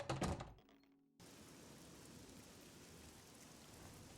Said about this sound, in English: Oh, it's a rainy day.